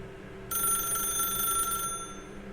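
A telephone in The Stanley Parable rings with a bright, tinny electronic bell. It starts suddenly, holds for over a second, then cuts off over a quiet room hum with no one speaking.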